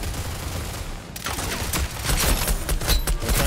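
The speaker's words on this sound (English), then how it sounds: "I'm trying to lay suppressant cover so you can move, Vapor." Gunfire laying suppressive cover in the Rogue Company shooter game, a steady roar that turns into a dense stream of rapid, overlapping shots and bangs, loud and close throughout, with no clear talking.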